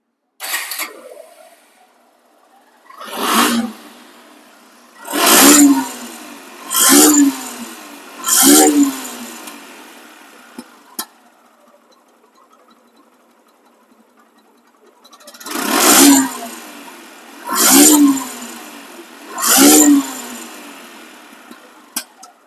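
A 2022 Suzuki Gixer SF FI ABS motorcycle engine revving nearby, three sharp throttle blips, a pause at a steady idle, then three more blips, with no talk.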